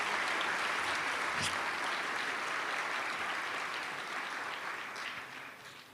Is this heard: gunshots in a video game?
no